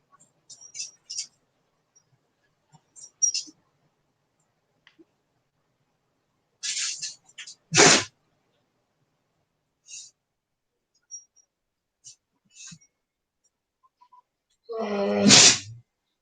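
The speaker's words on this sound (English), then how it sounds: "Somebody's sneezing all over the other one." A few short, sharp sneezes spaced across near-silence, with faint whispery clicks and small noises in between.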